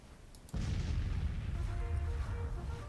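Artillery firing in the Civil War strategy game Grand Tactician: The Civil War: a sudden boom, then a steady, dense roar of battle rumble that carries on loudly to the end.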